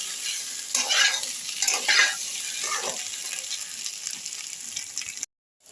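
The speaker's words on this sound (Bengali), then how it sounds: "এটা আমি মশলাটা খুব ভালো করে কষে নিচ্ছি" Ginger, garlic and onion paste being stir-fried with potatoes in hot oil for a Bengali aloo dum, a steady sizzle broken by a few louder scraping stirs of the spoon in the pan, close and continuous until it cuts off near the end.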